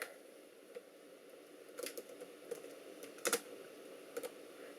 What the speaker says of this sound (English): And what you're going to do is type in three things.